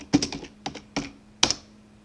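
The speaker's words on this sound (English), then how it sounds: "To do that, just type in sudo apt install Vim." A Linux install command is typed on a computer keyboard: a few sharp, close key clicks in small clusters with silent gaps between them, nobody speaking.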